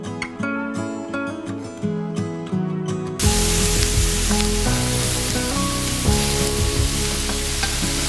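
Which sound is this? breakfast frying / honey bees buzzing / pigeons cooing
breakfast frying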